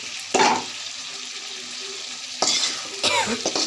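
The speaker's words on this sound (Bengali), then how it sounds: "শিম আলু কষানো হয়ে গিয়েছে।" Flat beans and potatoes fry in a pan for a Bengali katla fish curry, making a close, steady sizzle broken by a few sharp scraping stirs. No one speaks.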